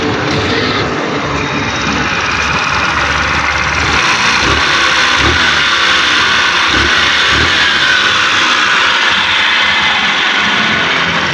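A repaired EXO 150 scooter engine, fresh from a transmission oil seal replacement, runs loud and close, with a steady buzzing idle and rattly mechanical clatter that continues without pause.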